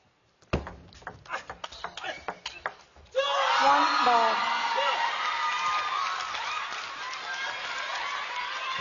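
At a table tennis match in the Infinity Arena in Incheon, a few sharp ball and paddle clicks give way to a loud burst of crowd cheering and shouting that holds steady to the end.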